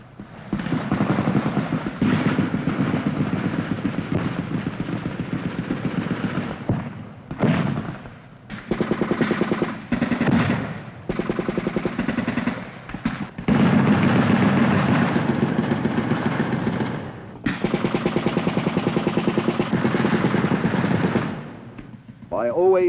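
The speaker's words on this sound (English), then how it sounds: "Our return fire continues well into daylight." Sustained machine-gun and rifle fire with heavier mortar-like blasts from Vietnam War combat in a plantation area, loud and dense bursts running almost continuously, with brief lulls between volleys.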